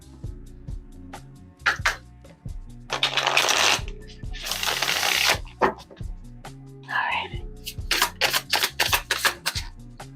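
Tarot cards being shuffled repeatedly, with bursts of riffling and soft slaps of the deck, close by, amid low background music and a few quiet voices.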